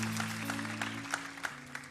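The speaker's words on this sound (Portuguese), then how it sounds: "Se você quer, aplauda bem forte." Church congregation applauding at moderate volume, a diffuse wash of clapping with a few sharper accents, over a sustained low organ or keyboard chord.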